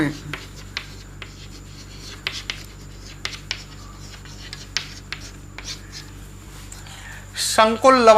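Chalk or marker strokes on a classroom board during a chemistry lesson, with intermittent short scratchy taps and scrapes spaced irregularly and a voice starting to speak at the very end.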